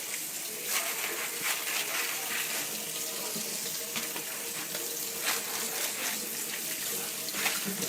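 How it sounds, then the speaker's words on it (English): Tap water gushes steadily into a sink or bowl while dry beans are rinsed before soaking, a loud, close, continuous rush with small splashy variations throughout and no voices. "now you're going to rinse off the beans"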